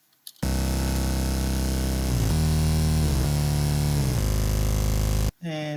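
A thick progressive house synth bass built from three stacked layers, sustained and loud with rich harmonics, its pitch gliding down and back in several slides before cutting off abruptly.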